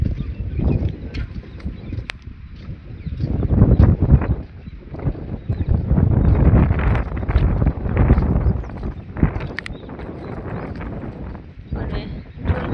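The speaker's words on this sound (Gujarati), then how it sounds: "તો મિત્રો અહીંયા ખૂબ જ પવન ફૂંકાઈ રહ્યો છે," Strong gusty wind outdoors on a stormy pre-rain summer day, buffeting the microphone with loud, uneven rumbling surges that rise and fall throughout.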